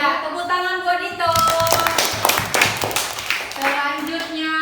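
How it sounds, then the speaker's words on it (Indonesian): Children in an elementary classroom clap together for a classmate, a short burst of lively, close applause lasting a few seconds while a voice carries on under and around it. "tepuk tangan buat Dito"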